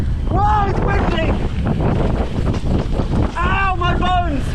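Loud, blustery wind buffets the microphone while riding a bike on a freeride trail, with voices calling out over the roar.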